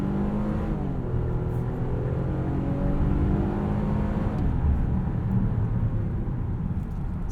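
2022 Nissan Pathfinder Platinum 4WD SUV accelerating up an entrance ramp, heard from inside the cabin as a steady, fairly loud engine drone and road rumble building smoothly without pause.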